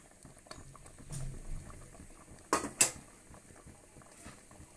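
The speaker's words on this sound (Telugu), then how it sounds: "ఇదిగోండి పొంగు వచ్చింది కదా" Milk with rice-flour dumplings boiling up in a pot, a soft steady bubbling and simmer with a few sharp clinks of a utensil against the pot partway through, fairly quiet and close.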